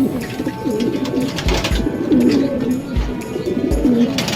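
Pigeons coo in a series of soft, rolling calls close by, with a few low knocks and faint rustling in between.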